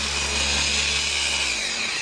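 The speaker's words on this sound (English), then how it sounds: "We're doing this just to clean up the pad because it was pretty caked up, and at the same time we're going to get some polishing done." A power drill spins a caked-up polishing pad against a Toyota RAV4 headlight, a loud, steady motor whir with abrasive hiss that begins winding down near the end.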